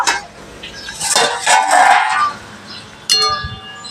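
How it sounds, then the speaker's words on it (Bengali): A metal pot lid is lifted and set down with clinks and scraping over a pot of simmering mango prawn curry, a few sharp clanks near and loud, then a final clatter. "ঢাকা খুলে দেখে নেব"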